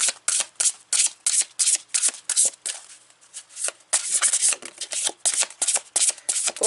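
Hands shuffling a deck of Voices of the Soul Oracle cards, a brisk series of crisp riffling, flapping bursts in quick irregular rhythm, close and fairly loud, with a brief lull midway.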